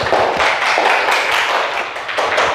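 Group applause from a class of students in an Indonesian Islamic religious education lesson, a dense, steady patter of many hands clapping together at close range for a few seconds.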